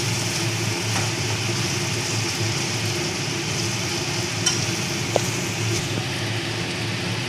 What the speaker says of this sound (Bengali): দেখুন আমার মশলাটা খুব সুন্দর ভাজা হয়ে গেছে। ঠিক এই মুহূর্তে আমি এই ক্যাপসিকামগুলো দিয়ে দিলাম।